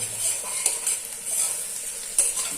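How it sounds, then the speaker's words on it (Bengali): Soybean curry sizzles steadily in a pan over lowered heat, with a few sharp scrapes and clinks of a stirring spoon breaking through the continuous frying hiss. "এবার একটু ভাজবো,"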